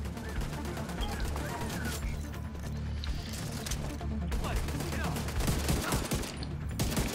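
An enemy gun turret in The Division 2 fires a rapid, continuous stream of shots with mechanical clatter, holding steady and close throughout, with occasional sharper bursts layered over the din.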